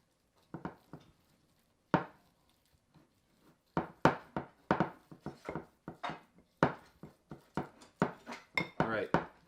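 Homemade salt-free playdough mixed in a bowl, giving irregular clinks and scrapes of a utensil against the bowl that grow busier and closer together, with occasional talk.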